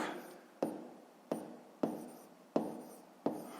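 A pen writes numbers on paper during a sixth-grade math exercise, making six crisp, close scratching strokes at a loose, uneven rhythm in an otherwise quiet room.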